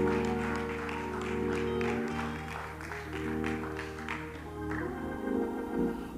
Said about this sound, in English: Would you clap your hands in there?